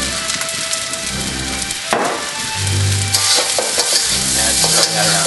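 Fried rice with soy sauce being stirred in a hot pan, a steady loud sizzle with scraping and clattering strokes of a utensil against the pan throughout.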